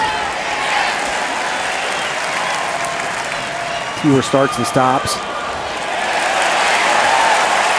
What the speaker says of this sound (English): And the crowd comes to their feet. What a tremendous crowd here.